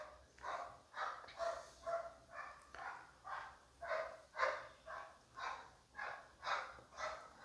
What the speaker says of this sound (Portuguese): Esses cachorros, cara.